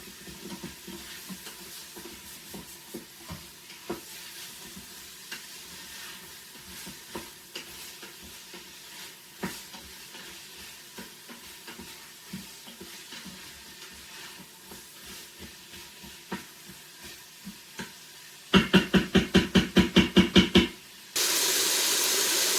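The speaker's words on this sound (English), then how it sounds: "my saute is on high. The temperature is on high, so it doesn't take very long. Give this a good stir." Chicken sautéing on high in an Instant Pot, heard as a steady close sizzle with repeated clicks and scrapes of stirring, followed near the end by a burst of loud rapid clatter and then a flat hiss.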